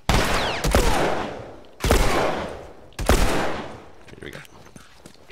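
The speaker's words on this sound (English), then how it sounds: "Alright, so we're starting with the shotgun." Three loud shotgun blasts in the video game The Last of Us, each a sharp boom with a long decaying tail, spaced about a second apart, then quieter clatter and handling sounds.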